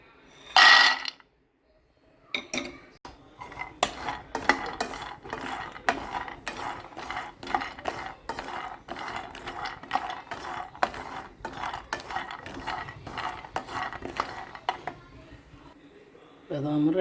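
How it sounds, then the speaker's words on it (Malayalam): Almonds are roasted in a pan, a close, rhythmic series of rattling, scraping strokes repeating steadily for many seconds after a brief louder clatter at the start. "ബദാം വറുക്കാം."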